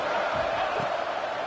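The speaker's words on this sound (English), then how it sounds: "Third down, and the crowd really getting into it." A football stadium crowd roars steadily during a third-down play at a playoff game, a dense, far-off wall of cheering and shouting with no break.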